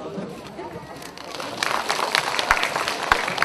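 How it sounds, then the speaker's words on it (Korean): Audience applause welcoming a committee chairman at a small community music concert in Ulsan, a broad wash of clapping that builds louder toward the end with a few sharper claps near the front. "큰 박수로 모시겠습니다"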